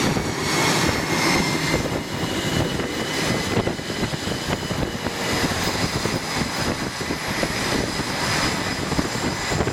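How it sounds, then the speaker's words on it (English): A heavy fighter jet at full afterburner launching from the aircraft carrier Eisenhower, a loud continuous roaring rush that stays steady and close for the whole stretch, with no voices over it. "It's full afterburner."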